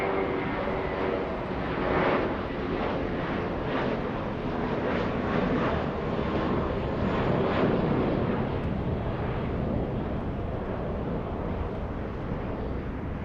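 Emirates airliner moving at LAX, a loud, continuous jet engine roar with broad rumble and slight swells, steady throughout with no talk.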